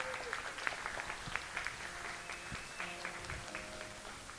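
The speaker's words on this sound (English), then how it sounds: "So let's clap for everybody." A crowd at a homeless union's tenth-anniversary celebration in Salinas applauds with a moderate, scattered patter of clapping that continues throughout, while voices talk underneath it.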